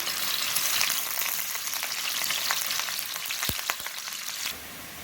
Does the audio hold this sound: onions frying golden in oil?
yes